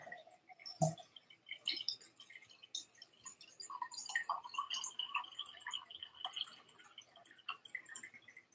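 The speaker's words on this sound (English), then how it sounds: "Let me pour some more water here." Water poured into a whisky glass, with a clink at the start followed by small trickling and dripping sounds, close and quiet, with no talking.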